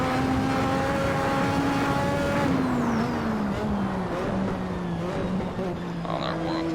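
Lotus 98T Formula One car in Assetto Corsa, its engine note droning steadily and then dropping in pitch at an upshift, carrying on at a lower tone afterwards.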